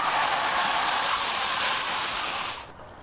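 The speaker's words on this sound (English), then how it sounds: "watch what slamming on the brakes at 55 looks and sounds like" A car braking hard from 55 mph in a stopping-distance test: a steady broadband roar of tyres and road noise that cuts off sharply near the end as the car halts.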